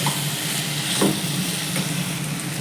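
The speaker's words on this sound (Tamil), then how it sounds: "எண்ணெயில் கொஞ்ச நேரம் வதக்கி கொஞ்சம் சிம்லேயே விட்டு வேக விட்டுருவோம்." Potatoes and jackfruit seeds fry in oil, giving a steady close sizzle with a brief stirring scrape partway through and no talk.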